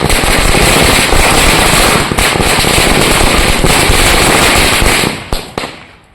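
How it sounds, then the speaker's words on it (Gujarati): Firecrackers burst in a dense, loud, continuous crackling barrage at a primary teachers' union celebration in Fatepura, Dahod, then thin to a few scattered pops before fading out. "ગુજરાત સરકારનો આભાર માનીને ફટાકડા ફોડીને ઉજવણી કરી હતી"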